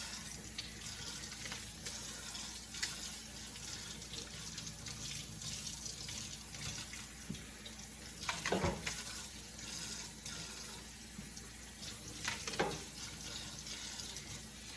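Celery is rinsed under a running kitchen faucet, a steady hiss of tap water filling the sink, with brief louder splashes around eight and twelve seconds as the stalks pass through the stream.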